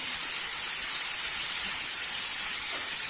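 Raisins and caramelizing carrots sauté in a pan, giving a continuous, even hiss of frying that stays steady and moderately quiet with no talking.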